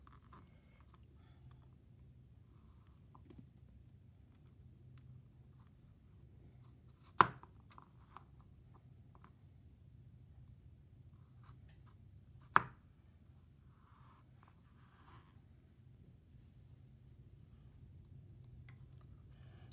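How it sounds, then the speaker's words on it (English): A knife halves garlic cloves on a cutting board in two separate crisp chops several seconds apart, each a sharp close tap over faint room hiss. "I have two garlic cloves here, and I'm going to cut it in half"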